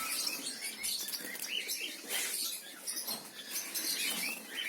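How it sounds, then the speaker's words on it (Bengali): Adult finches on a bird farm chirp with a dense, faint twittering of many small high calls, steady throughout and heard at some distance. "এটা হচ্ছে ফিন্স পাখি ফিন্স পাখি এইগুলো ফুল অ্যাডাল্ট"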